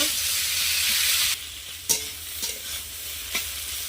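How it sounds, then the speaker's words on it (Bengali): Onions fry in a pan with a dash of salt until browned, a strong close sizzle at first that drops to quieter crackling as a spoon stirs with several distinct scraping clacks, no talking. "পেঁয়াজটা আমি ভালোভাবে লাল করে ভেজে নেব।"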